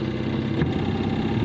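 A 7.5 horsepower outboard motor on a small yacht runs at a steady, loud drone with a rough, constant hum and no voices over it.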